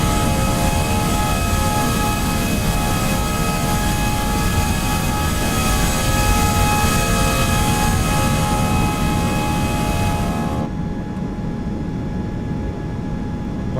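Airliner IAE jet engine run-up in a flight simulator sound pack, a loud continuous roar with steady tonal whine that holds, then drops abruptly in its upper hiss near the end, no talking.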